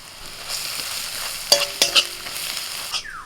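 Onions fry in a pan with turmeric, red chili, Kashmiri chili, coriander and cumin powders under a soft, steady sizzle. A utensil stirs them, and a few bright metallic clinks against the pan come close together midway.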